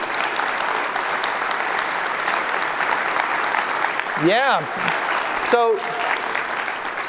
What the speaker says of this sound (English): Give them a round of applause for making it here.